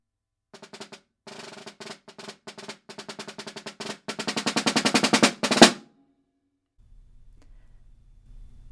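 A snare drum plays a solo etude passage of rapid strokes and rolls, building in loudness to an accented hit, then a low hum lingers.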